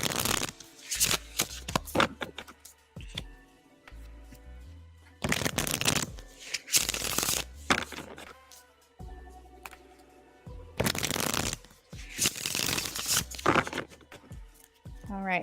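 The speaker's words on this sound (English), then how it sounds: "All right, shuffling for you, Amy." A deck of tarot cards is shuffled in repeated bursts of riffling and flicking, close and crisp, with short pauses between rounds and a person speaking softly in the gaps.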